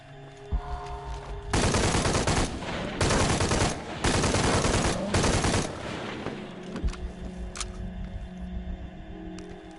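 Automatic machine gun fire in the video game Shadow of the Tomb Raider, three loud sustained bursts separated by short gaps, then quieter game ambience with scattered small clicks.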